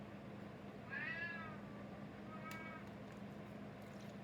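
A house cat meows twice indoors in a kitchen, two short, faint calls about a second and a half apart over a low steady hum.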